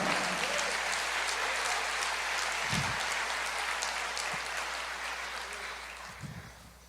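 A church congregation applauding during a sermon, a dense wash of clapping that holds steady then slowly fades, heard from within the hall, with a couple of low thumps.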